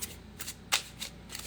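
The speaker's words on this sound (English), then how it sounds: "I just want to shuffle these a little bit." Tarot cards are shuffled by hand in a quiet room, giving soft riffling bursts and light slaps, with one sharper snap partway through.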